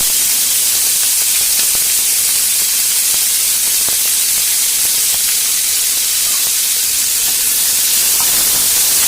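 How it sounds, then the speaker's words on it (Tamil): Onions and tomatoes sautéing in a pan as the base for a chicken dish give a loud, steady, unbroken sizzling hiss close by, with no talking. "இப்போ சிக்கனுக்கு வெங்காயம் தக்காளி போட்டு நல்லா வதக்கி வைக்கணும்"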